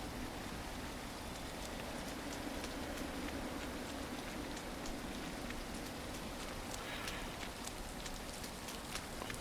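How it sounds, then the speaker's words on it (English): Continuous rain at a bus depot, a soft broadband patter with occasional sharper drops landing on a surface nearby, quiet and steady throughout. "It's raining."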